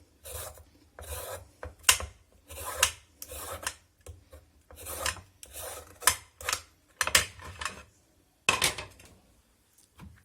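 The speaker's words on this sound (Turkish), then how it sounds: "Rendeliyorum." A carrot rasps against a grater while being prepared for a lettuce seasonal salad, in rhythmic bursts of close scraping strokes separated by short pauses, with no talking.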